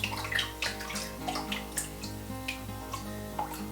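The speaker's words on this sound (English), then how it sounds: "as the water sinks out of the frame" Water drains and drips out of a papermaking frame after a scoop of floating paper fiber, with soft irregular trickles and splashes close by over a faint steady hum.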